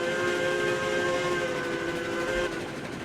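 A steam locomotive whistle in the RailRoads Online game blows one long, steady, chord-like tone for about two and a half seconds over low rumbling train noise, then cuts off, leaving the rumble.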